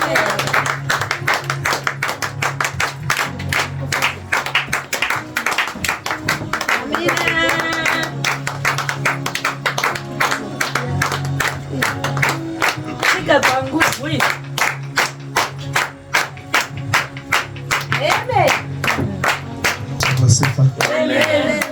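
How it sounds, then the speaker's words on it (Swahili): A church congregation claps continuously as a bishop walks to the altar. The rhythmic claps are loud and dense throughout, with voices and music mixed in beneath them. "Piga makofi moja kwa moja mpaka atakapofika madhabahu"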